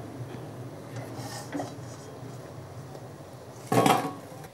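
Fried date-juice fritters are lifted out of a pan. Quiet scraping and light metal clinks run throughout, followed by a sharper clatter of a utensil against the pan near the end, with no talking.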